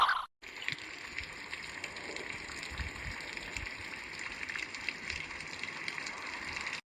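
Steady heavy rain pours down in a constant broadband wash with a brief gap near the start, loud and unbroken throughout.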